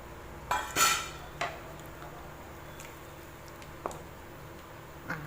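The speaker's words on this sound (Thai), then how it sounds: "เราจะเท ตัว มะเขือม่วงที่ทอดไว้ลงไปด้วยนะคะ" Fried eggplant drops into a pot of water for an eggplant and potato curry: a short, sharp splashing clatter near the start, then a few faint, scattered clicks against the pot, with no talking.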